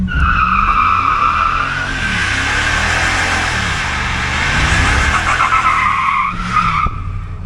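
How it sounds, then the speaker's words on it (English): A 2017 Ram 1500 Sport pickup truck with a 5.7 Hemi does a burnout, its tires squealing loudly and continuously over the revving engine for several seconds, close by. "The answer is yes. She does burnouts."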